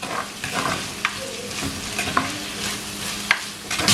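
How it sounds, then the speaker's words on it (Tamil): Curry leaves and green chillies fry in a pan for mutton rolls, stirred with a spoon: a steady oil sizzle with scraping strokes and a few sharp clinks against the pan, heard close up. "இப்போ இதை நல்லா மிக்ஸ் பண்ணி விடுங்க."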